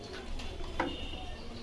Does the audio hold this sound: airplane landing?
no